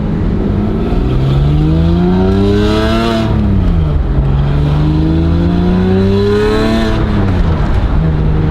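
A Porsche with the 3.8-litre M97 flat-six revs hard while driving, loud and close, climbing through two long pulls with a brief dip between gear changes.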